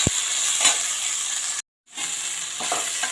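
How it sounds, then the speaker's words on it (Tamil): Chopped tomato sautés with onions in a hot kadai for kadai paneer, a loud continuous sizzle with soft stirring scrapes, broken by a short silent cut midway. "இப்போ வந்து நம்ம கட் பண்ணி வச்சுருக்கிற டொமேட்டோவை சேர்த்துக்கலாம். இதையும் 1 நிமிஷம் நல்லா வதக்கிக்கலாம்."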